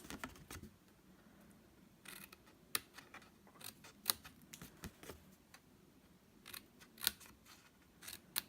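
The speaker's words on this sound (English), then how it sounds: "we're going to cut up here" Scissors snipping through paper to cut the corners of an exploding box craft, a series of close, sharp clicks at irregular intervals against a quiet room.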